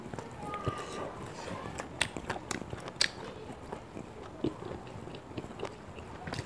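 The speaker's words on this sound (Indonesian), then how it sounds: "Ngunyah jengkolnya pegel." Fried jengkol beans being chewed close up, with soft irregular biting and crunching sounds over a few seconds, mixed with small mouth noises and murmurs.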